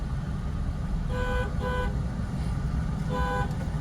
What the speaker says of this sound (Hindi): अब जैसे यहाँ पे देखो आपने 3 बार हॉर्न बजाया